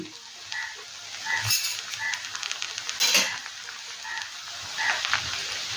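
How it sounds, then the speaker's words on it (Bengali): A spatula stirs chowmein noodles with winter vegetables, Maggi masala, black pepper and fried egg in a hot pan, giving scraping clinks and soft sizzling in an irregular rhythm. The sound is close and there is no talking. "এখন এই সমস্ত উপকরণ আবারও ভালোভাবে নেড়ে চেড়ে মিশিয়ে নেব।"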